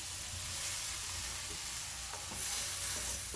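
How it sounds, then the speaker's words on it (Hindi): Poha, flattened rice, tipped a little at a time into a pan of spices on a low flame, giving a soft steady sizzle with faint scraping and stirring. "अब धीरे धीरे करके ये जो पोहे हैं इनको डाल देंगे।"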